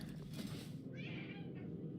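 A house cat lets out a single soft, drawn-out meow about midway through, faint and on its own over quiet background hum.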